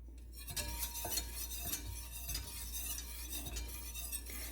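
Cornstarch mixture for mango ice candy stirred continuously in a pot, giving soft scraping and light clinks of the utensil against the pan at a steady, repeated rhythm, close by, over a constant low hum.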